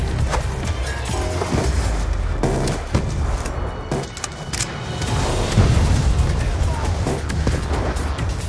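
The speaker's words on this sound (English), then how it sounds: "Stand by for rocket out." Rocket strike explosions and battle noise in the video game Call of Duty: Black Ops 2, a continuous loud rumble with repeated booming impacts and crackling debris, with voices faintly mixed in.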